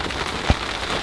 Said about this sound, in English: As you can hear, it's starting to rain pretty good